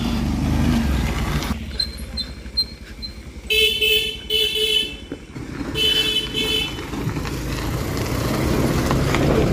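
A vehicle horn at a petrol pump gives a few short toots as a car arrives for a jungle safari pickup, over a steady background hum of road traffic.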